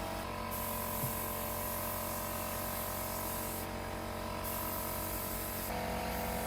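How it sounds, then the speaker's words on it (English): An entry-level Harbor Freight spray gun sprays Rustoleum paint onto an old USPS mail truck, a loud continuous hiss that holds steady throughout with slight shifts in tone. "spraying it out of an entry-level Harbor Freight spray gun"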